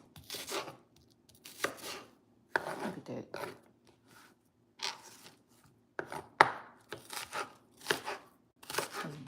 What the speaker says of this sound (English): Man, they be chopping this stuff up.